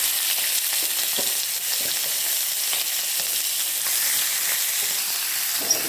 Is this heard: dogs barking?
no